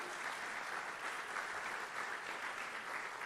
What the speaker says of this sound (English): Please give one more round of applause to all of our elected leaders and school officials.